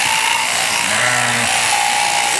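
A sheep at a village festival shearing display gives one short, wavering bleat in the middle, heard over loud, constant background noise from the crowd and festival.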